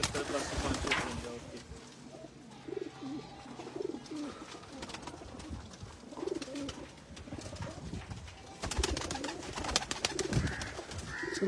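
Pigeons coo repeatedly in soft, rolling calls at a breeder's loft in Chak Jhumra, with scattered rustling and a person talking intermittently over the birds.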